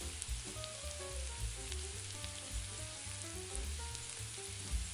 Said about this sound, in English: Continue to stir the onions, allowing them to become lightly caramelized.